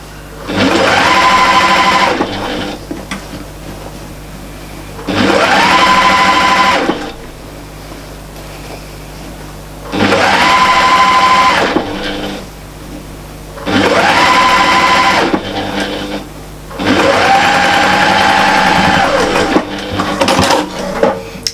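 A free-arm sewing machine stitches together the raw fabric edges of a storage caddy in five steady, loud whirring runs of several seconds each, with short quiet pauses between them and no voices.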